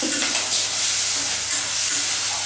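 Ground spice paste for capsicum bath frying in a hot pan, a loud steady sizzling hiss that continues without a break, close by.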